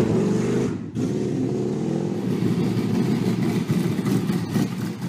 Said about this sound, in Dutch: Er staat een 16-cilinder Cadillac motor in.